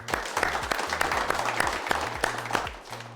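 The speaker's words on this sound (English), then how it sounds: "let's give them a round of applause" An audience claps in a round of applause at the 2024 Nedbank Pitch & Polish entrepreneur event, dense and close, with a rhythmic low thumping music beat running beneath the clapping.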